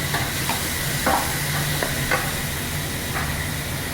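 Salt-and-pepper marinated chicken breast frying in a pan for mushroom pasta: a loud, steady close-up sizzle and hiss with occasional scraping stirs, and no talk.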